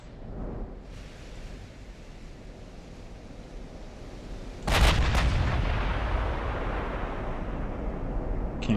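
Battleship main guns firing in the naval video game Ultimate Admiral: Dreadnoughts, one heavy boom midway that rolls into a long rumbling tail over a constant wash of ocean and wind, with a fainter thud near the start.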